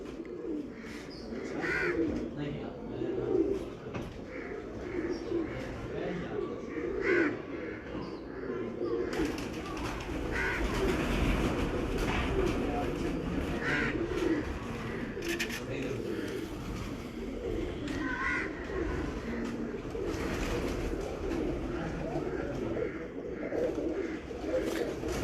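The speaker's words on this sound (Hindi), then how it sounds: "ये एक और लालपरी कबूतर है" Lalpari breeder pigeons from Kasur coo softly and repeatedly amid a busy loft, with a steady background rustle and murmur throughout.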